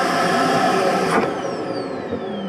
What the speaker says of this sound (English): Down here on the floor is our vacuum system. Hook up a vacuum here, turn that on.